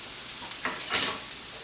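Minced garlic hits a pan for shrimp fried rice, a short burst of sizzling with a brief scrape of stirring, moderately loud and close.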